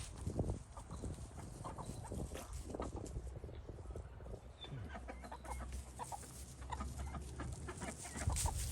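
A partridge-colored pullet clucks among a flock in a farmyard with a livestock guardian dog, faint and mid-distance, in scattered short clucks over a low steady background rumble.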